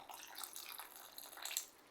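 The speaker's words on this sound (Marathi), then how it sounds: "आणखी एक अर्धी वाटी गरम पाणी घालते" Half a cup of hot water is poured into a pot of partly cooked tomato khichdi rice, making a short, soft splashing gurgle with a brief brighter splash near the end, heard alone.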